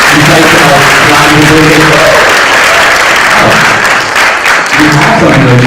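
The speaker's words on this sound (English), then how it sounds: "please can you clap again for that amazing insight plan" Loud, dense applause from a tech conference audience at a Google DevFest event fills the whole stretch, steady and close, with a low murmur of voices underneath.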